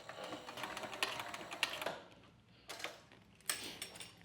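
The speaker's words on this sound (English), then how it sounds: "when making these turns on the sewing machine that I have" A sewing machine stitching a back cinch runs in short, faint bursts of rapid mechanical ticking, stopping and restarting between turns at close range.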